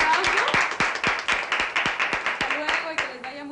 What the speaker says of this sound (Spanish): Nos damos un fuerte aplauso.